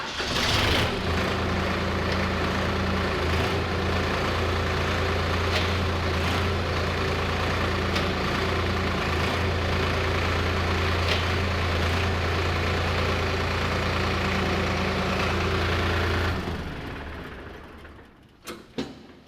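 Solis E Series tractor engine running steadily at a constant idle for about sixteen seconds during an inline mechanical reverser demonstration, a loud, even drone with no talk, then cutting off near the end.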